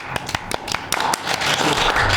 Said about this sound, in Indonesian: Teman-teman, tepuk tangan dong.